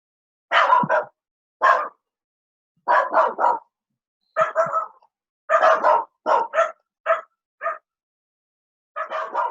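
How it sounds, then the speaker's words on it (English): Dogs bark in the background in repeated short bursts of two or three yaps, spread across the whole stretch with quiet gaps between, fairly loud, with no talk over them. "I apologize for the dogs barking in the background."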